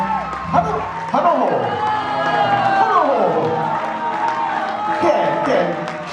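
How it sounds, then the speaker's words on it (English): Festival crowd at a hula performance cheers, whoops and applauds loudly, with shouting voices and sweeping whistles layered over continuous clapping. "Big round of applause."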